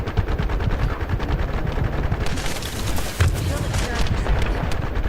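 Dense, continuous automatic gunfire with booming impacts from The First Descendant, a looter-shooter game, running throughout with a brief dip near the middle, loud and close, with game effects layered over it.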